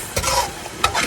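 Eggplant stew with garlic and peppers frying in a pan, a steady close sizzle broken by two short stirring scrapes.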